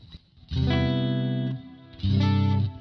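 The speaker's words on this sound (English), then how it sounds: "how much of the reverb is coming through versus the guitar signal" Electric guitar chords ring out in two sustained strums through a Fender Tone Master Pro, drenched in reverb with a washy, spacious tail and no voices.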